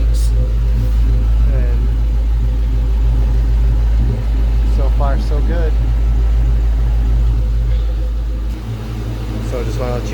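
A Cobra car's engine runs and idles after a tailshaft bushing replacement, a steady low rumble throughout while someone talks close by over it.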